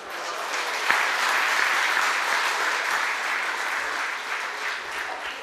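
An audience at a district gathering bursts into sustained, dense applause after a poem is recited, a steady wash of many clapping hands lasting several seconds with no talk over it.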